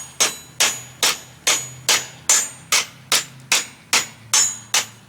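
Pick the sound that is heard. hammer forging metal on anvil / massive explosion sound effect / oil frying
hammer forging metal on anvil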